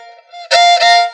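A Pontic kemenche lyra is bowed backward and forward with the second and fourth fingers on the strings: two bright, raspy sustained strokes follow a faint opening note, close and clear.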